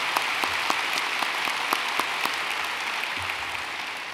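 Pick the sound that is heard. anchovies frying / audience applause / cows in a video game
audience applause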